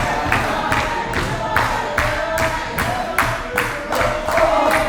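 A pro wrestling crowd roars in support of the wrestler Recon, a steady wash of cheering filling the arena, punctuated by regular loud thuds and slams from the ring.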